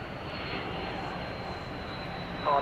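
An Airbus A330-200 jet airliner at DFW Airport gives a steady, broad engine roar at moderate distance, with a faint brief chirp near the end.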